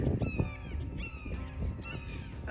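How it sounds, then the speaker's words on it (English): Blackbirds give harsh, repeated caws outdoors while mobbing a hawk, the rough calls overlapping at moderate distance with no talk. "Ah, the blackbirds are attacking him."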